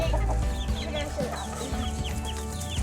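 Chickens cluck in a backyard coop during farm chores, with a busy run of short, overlapping clucks and calls held at moderate, close range for the whole stretch.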